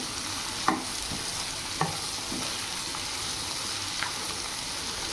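Black-eyed peas (alasandalu) frying in a pan over low flame, with a steady soft sizzle and a few sharp stirring clicks spaced across it.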